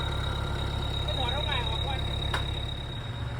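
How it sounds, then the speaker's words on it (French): A tractor engine runs steadily in a wet, muddy hole as its wheels spin, a low continuous rumble with a faint high whine, while people talk over it. "S'il y a de l'eau, c'est trempe, le tracteur il spin dessous."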